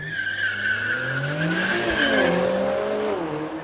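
A Mercedes-AMG A45 S and a Toyota Supra launch from a street-style drag race start, with loud, close tyre squeal and engines revving hard as both cars pull away.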